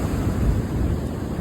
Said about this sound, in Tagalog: pero lalaki naman ng alon